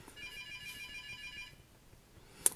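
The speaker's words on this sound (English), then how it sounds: "And there's my phone ringing." A phone rings indoors at home, a steady repeating electronic ringtone of about a second and a half, then it stops, leaving quiet room tone and one brief sharp click at the end.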